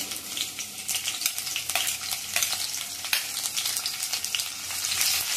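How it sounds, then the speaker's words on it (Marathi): Cumin seeds and chopped garlic tempering in hot oil and ghee make a bright, dense crackling sizzle that holds steady and close, with faint stirring scrapes and no talk. "जिरा टाकूया फोडणीला"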